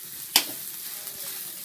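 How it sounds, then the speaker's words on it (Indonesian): Nasi goreng frying in a pan, with a sharp clank of a utensil against the metal near the start, then a steady soft sizzle continuing underneath on its own. "ini Bude Jum lagi masak nasi goreng"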